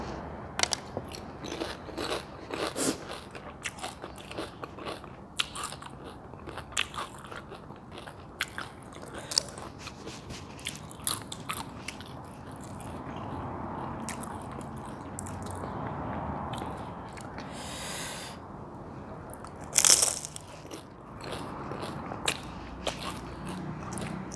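Crisp bites and steady crunchy chewing of freshly made homemade fried spring rolls, close and loud, repeating through a long stretch with a sharper crackle near the end.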